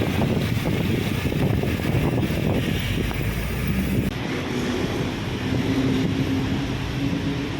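Strong, constant wind buffets the microphone on Roxas Boulevard by the sea during a ride, loud rushing noise throughout with a low hum underneath.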